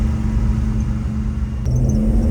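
Steady, loud low rumble of a 1966 Chevrolet Chevelle SS-396 L35 V8 with a 4-speed, running while driving in first gear, a constant heavy drone heard from close by with no talking.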